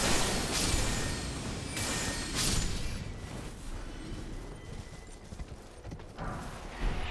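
Horse hooves clopping in the open-world video game Elden Ring, a steady stream of soft thuds under game ambience and rumbling effects, fairly quiet and continuous.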